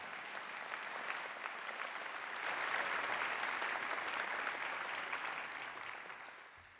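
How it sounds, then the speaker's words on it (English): Sustained applause from an audience at a college inauguration ceremony, a broad even wash of clapping that swells in the middle and tapers slightly at the end, heard alone. "This is a clapping time."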